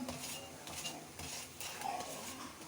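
A paratha fries in ghee in a pan, giving a soft, steady sizzle with scraping and stirring sounds and light utensil clinks, faint and continuous with no talk.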